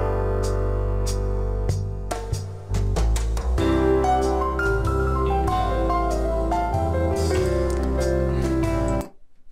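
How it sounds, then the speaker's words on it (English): A jazz track plays with bass, drums and layered instrumental chords, running steadily before cutting off abruptly at the end. "There's jazz."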